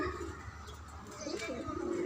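Pigeons coo softly in low, throaty murmurs on a rooftop garden, faint and close, over a quiet background.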